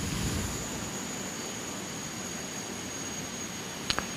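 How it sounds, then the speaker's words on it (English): Number one jet engine starting in a home-cockpit airliner flight simulator, a steady whooshing roar with a thin high whine, constant and fairly loud, ending in a couple of sharp clicks. "N2's rising on the number 1 engine. We got a good light. The engine started."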